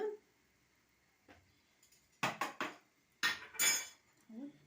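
Milk is stirred into roasted flour for béchamel in a pot, with a utensil clinking and scraping against the metal in quiet, irregular bursts between pauses.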